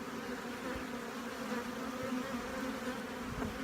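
Honey bees buzz inside a big hive of ten frames during spring, a dense steady hum heard fairly softly and close, without any voices.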